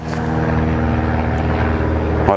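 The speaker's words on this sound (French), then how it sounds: "on a l'aérodrome à côté, donc de temps en temps il y aura le bruit des avions" A propeller aircraft from a nearby airfield drones steadily and fairly loud for a couple of seconds, with a constant engine hum and no one speaking.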